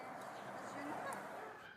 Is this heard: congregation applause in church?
no